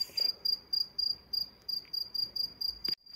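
A single cricket chirping through the night in Spain, a regular series of short pulsed trills at an even pace, moderately faint, with a brief soft knock near the end and no talking.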